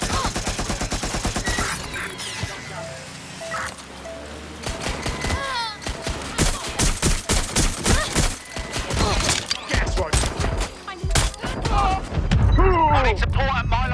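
Rapid bursts of gunfire in the game Watch Dogs: Legion, dense overlapping shots and automatic fire building in intensity over several seconds, with brief voices mixed in.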